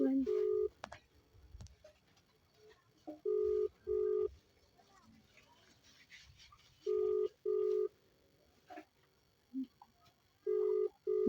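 A mobile phone call being redialled, with repeated ringback tones sounding in regular paired bursts, separated by quieter gaps where faint voices and background noise come through the line.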